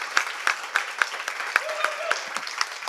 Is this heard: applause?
yes